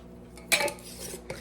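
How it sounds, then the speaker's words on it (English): Cream cheese, flour and salt going into a pot, a brief clatter of cutlery and a metal pot, then a short clink near the end, close by with no talking. "We're gonna put our cream cheese in. We're gonna put our flour in. And we are going to put our salt in."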